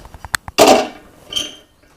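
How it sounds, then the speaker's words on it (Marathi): A loud metallic clank of a heavy metal griddle set down on a gas stove, preceded by a few light taps and followed by a brief ringing scrape. "तवा ठेवलाय गरम करायला गरम करायला तवा ठेवलाय"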